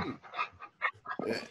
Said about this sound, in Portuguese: Tem um cachorro aqui.